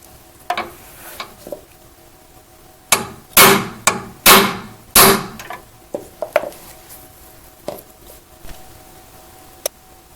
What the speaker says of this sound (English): you want to hit the center again with that socket wrench